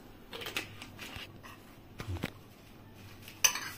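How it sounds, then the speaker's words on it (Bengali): A lid is placed on a glass jar of green chilli pickle, giving a few light clinks and taps spaced apart, then one sharper knock near the end, close and fairly quiet with no speech. "আমি 1 ঢাকনা দিলাম, আবারও 1 ঢাকনা দিচ্ছি।"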